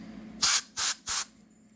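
Three short hissing bursts of cleaning spray aimed at a computer's wireless LAN chip, each about a fifth of a second with brief gaps, close and crisp against a quiet background.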